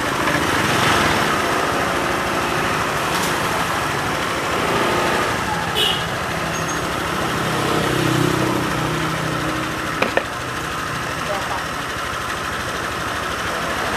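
A Honda Vario scooter engine idles steadily after being revved while hot, a continuous close mechanical hum running throughout with a few brief clicks and knocks.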